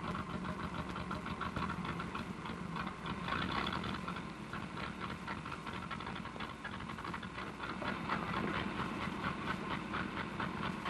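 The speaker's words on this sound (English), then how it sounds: "This engine sure is missing." An engine that is missing runs continuously with a dense, rough rumble and irregular chugging texture, steady in level throughout with no voices.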